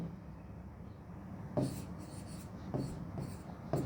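Marker or chalk strokes on a classroom board during a chemistry lesson, a few short scratchy taps and scrawls spaced out over a quiet room tone.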